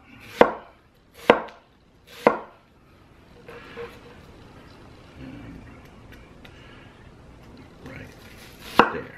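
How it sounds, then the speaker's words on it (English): An ENOKING Serbian chef knife, a 6 to 7 inch cleaver-style blade, rough-chops food on a cutting board, giving three sharp close thuds in quick succession. A quiet rustle follows, then one more chop at the end. "Good rough chop."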